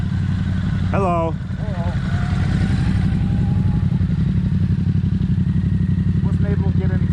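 A Ducati motorcycle engine running, a steady loud rumble that holds throughout while a person calls out briefly over it.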